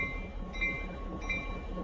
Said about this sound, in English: It's Central train. Nevada Northern Railway!